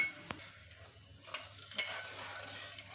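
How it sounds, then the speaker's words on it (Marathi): A spoon stirs warm milk in a pan to dissolve sugar for shankarpali dough, giving a few soft, scattered clinks and taps over a quiet background. "बघा, थोडं थोडं हलवायचं आहे म्हणजे साखर पटकन विरघळली जाईल।"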